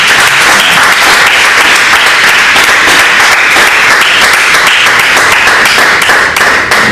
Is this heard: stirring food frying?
no